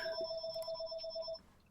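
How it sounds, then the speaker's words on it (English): A phone rings with a steady electronic ringtone, a bright sustained tone with a faint pulsing pattern, lasting over a second before cutting off, moderately quiet and alone. "Somebody has their phone ringing."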